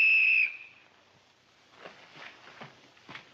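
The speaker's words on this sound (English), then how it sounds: "that lieutenant's gonna blow her whistle" A single sharp, loud whistle blast from a lieutenant in a 1951 army comedy, lasting about half a second and then cutting off, followed by soft scuffling and footsteps.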